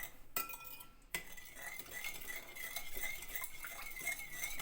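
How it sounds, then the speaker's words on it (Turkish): A spoon stirs flour halva with a freshly added sugar syrup in a pan, making soft scraping and light metallic clinks, with a brief sharp clatter near the start, fairly quiet and continuous. "Güzelce karıştıralım."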